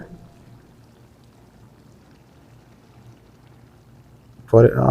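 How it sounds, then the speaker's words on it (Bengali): Broth is poured into a bottle gourd greens curry cooking with pangas fish; a low simmer gives way to a sudden loud splashing pour near the end, with a voice talking. "অল্প পরিমাণ আর একটু ঝোল দিয়ে দিতেছি"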